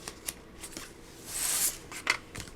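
Scissors cutting paper pieces along a score mark for a skinny folio, a few soft close snips and paper rustles, quiet and brief.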